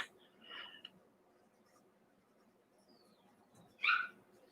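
A dog gives two short, faint yelps, one early and one near the end, in a quiet room where an oil portrait is being painted, with soft background noise between them.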